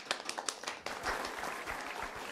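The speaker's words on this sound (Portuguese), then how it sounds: "Palmas pra Belly, gente." Audience applause for a designer during a Brazilian Portuguese tutorial show, a dense burst of many hands clapping that starts with a few sharp claps and swells into steady, fairly loud applause with no talking.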